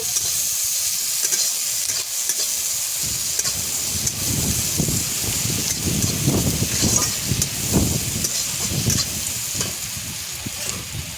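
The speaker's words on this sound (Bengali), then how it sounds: "পেঁয়াজগুলোকে একটু ভেজে নেব।" Onions frying in a pan with bay leaf tempering in a village kitchen, a loud steady hiss and sizzle with repeated stirring scrapes running throughout and no talking.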